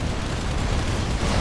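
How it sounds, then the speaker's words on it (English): A big in-game explosion as the Pegasus is destroyed in StarCraft 2: a dense, loud, sustained roar of rumbling blast noise with no pauses and no voices. "the big explosion is the Pegasus being destroyed"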